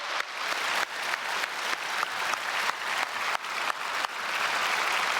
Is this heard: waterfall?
no